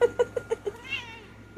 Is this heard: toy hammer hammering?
no